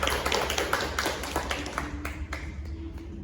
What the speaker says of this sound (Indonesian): sekali lagi kita tepuk tangan Untuk untuk Kak Ninin